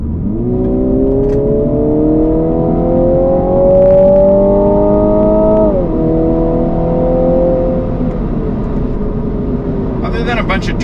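A Mini Cooper F56 in normal mode goes to full throttle from 40 mph, and its engine drone climbs steadily from inside the cabin. Partway through there is a brief dip as the car upshifts, then the drone climbs again and stays loud and continuous.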